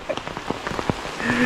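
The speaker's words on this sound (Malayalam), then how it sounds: "ഫുള്ള് മഴയായി." Heavy rain patters close by on surfaces in a brief burst of dense, irregular drops, with no talk.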